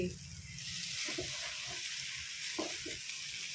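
Noodles with shrimp and vegetables sizzle loudly in a pan, with a constant hiss of frying broken by soft scraping stirs.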